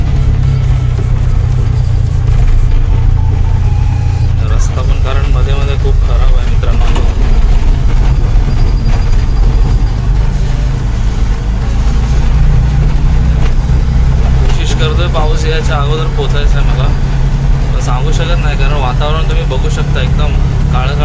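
A car drives slowly along a winding road near Mandangad in rain, its engine a loud low rumble with shifting revs and road noise throughout, while someone talks over it.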